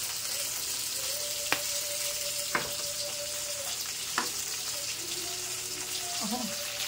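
Chili garlic sizzling in oil mixed with butter in a pan, a steady bright frying hiss throughout with a few sharp clicks of stirring and a faint tonal hum beneath.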